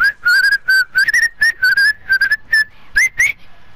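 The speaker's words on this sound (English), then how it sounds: "I've been whistling a lot for some reason." A person whistling a quick melody of clear, loud, close tones in short bursts, one held note near the end, no talking.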